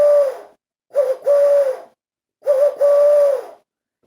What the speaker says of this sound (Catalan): I la veu de la tórtora serà així.